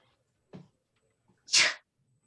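A short intake of breath, then one loud, sharp sneeze close by, followed by quiet.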